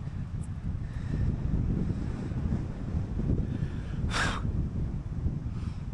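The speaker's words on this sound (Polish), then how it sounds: "Ale zaczęło wiać okrutnie." Strong wind buffets the microphone in a constant roaring rumble, with gusts swelling and easing and a brief brighter hiss partway through.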